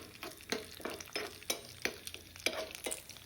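Cashews and raisins roast in melted ghee over a low flame, giving a quiet, rhythmic series of stirring strokes, each with a soft scrape, over a faint, close sizzle.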